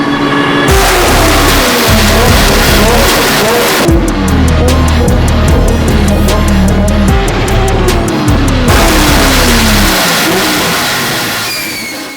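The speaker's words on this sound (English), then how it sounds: "that vibrant titanium exhaust is loud" Toyota GT86 running on a dyno with a loud Vibrant titanium exhaust, roaring through repeated full-throttle pulls with rising pitch, brief lifts between runs, close and continuous before trailing off at the end.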